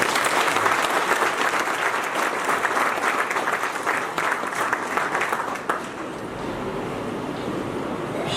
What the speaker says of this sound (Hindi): सबसे पहले उसके सम्मान में सब लोग जोरदार ताली बजाएं